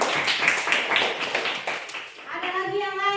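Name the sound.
classroom clapping for a pupil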